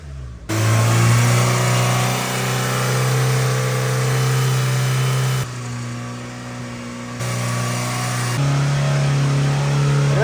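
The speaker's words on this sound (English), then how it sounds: "Rev it up again." A freshly assembled Honda K24 engine in a Silverado revs loudly in a shop. The engine holds a strong, steady note, steps down, then climbs back up to higher revs.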